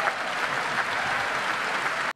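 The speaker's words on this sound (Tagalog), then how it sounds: "Bakit sila pumapalakpak?" Congressmen applauding during a state of the nation address, a steady dense clapping from a large room that holds evenly for about two seconds and then stops abruptly.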